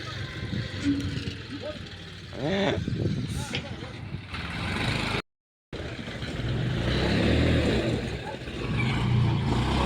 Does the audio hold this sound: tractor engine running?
yes